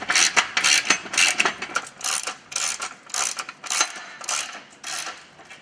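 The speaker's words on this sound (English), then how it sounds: "I'm going to go back and tighten everything down." Hand ratchet tightening bolts during a Kolpin X Factor ATV snow plow install, a close, crisp clicking in quick bursts of strokes with short pauses between, steady and alone.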